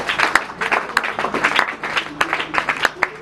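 A congregation at an evangelical church service breaks into applause, with irregular, overlapping bursts of clapping close by for a few seconds and no speech over it.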